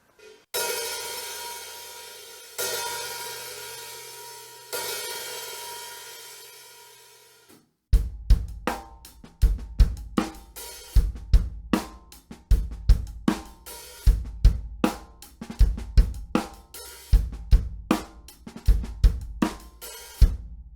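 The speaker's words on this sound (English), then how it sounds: "it's important to kind of find the right amount of sizzle that we want for that open hi-hat" Three long sizzling open hi-hat washes, then a steady drum groove with kick, snare and crisp hi-hat hits repeating in an even rhythm.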